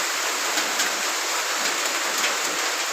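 Steady rain pours down on a stormy morning in Laos, a dense, even hiss of drops on surfaces, close and continuous with no voices.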